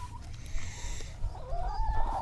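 Chickens on a summer homestead bee farm, a flock of about fourteen or fifteen laying hens, cluck in a short, scattered run of calls over low background rumble, fairly close, with no talk.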